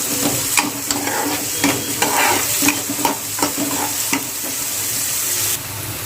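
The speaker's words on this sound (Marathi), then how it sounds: "तर आपला इथे कांदा फ्राय होत आहे" Onion frying in oil in a pan makes a loud, continuous sizzle, broken by repeated scraping stirs of a spoon against the pan, close up with no speech.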